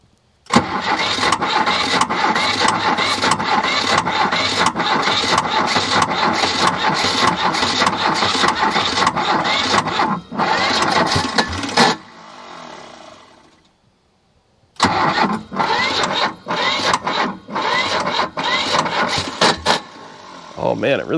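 A 4x4 diesel-powered man-lift with a seized throttle shaft cranks over in a long, rapid, loud burst, stops briefly, then cranks again, close up, struggling to catch.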